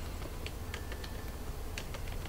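Light typing on a computer keyboard to enter text, soft scattered key taps heard faintly over a steady background hum.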